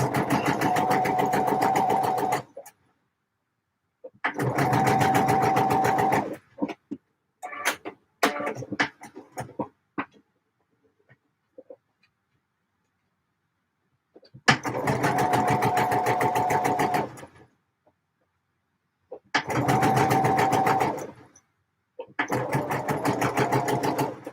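Sewing machine stitching the armholes of a shirt, running in four steady bursts of a few seconds each, separated by quiet pauses with handling noises.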